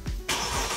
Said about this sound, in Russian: Давай, заводи машину.